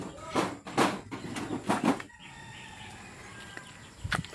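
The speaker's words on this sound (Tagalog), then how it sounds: "mayroon kami manok dito" A rooster crows in several loud bursts close by, followed by quieter farmyard sounds and a brief cluck near the end.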